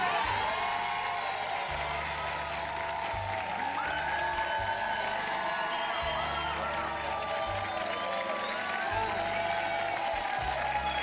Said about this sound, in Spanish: que la gente parara los aplausos